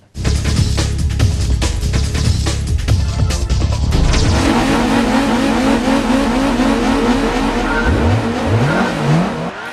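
Race cars in Gran Turismo roar and rev loudly, with rising and falling engine pitch as they accelerate through gears, and a burst of clattering, busy sound at the start before the engine whine takes over.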